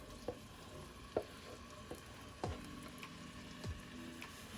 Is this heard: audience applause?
no